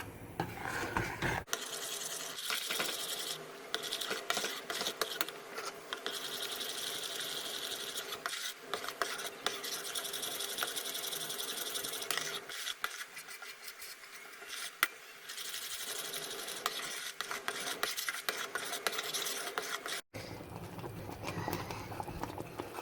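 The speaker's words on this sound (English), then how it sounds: "You want it to boil, but you need to keep stirring it." Caramel for salted caramel millionaire's shortbread stirred continuously as it boils in a pan, a steady close rasping scrape and bubbling texture running throughout, with no talking.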